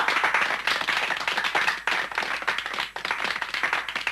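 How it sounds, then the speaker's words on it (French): An audience in a 1985 cartoon breaks into applause, a dense, loud wash of clapping that swells and dips briefly before carrying on. "Allez, il est temps de l'applaudir"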